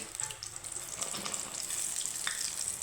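Small fish coated in besan fry in very hot oil, a steady, bright sizzling hiss that runs without a break and has no voices over it.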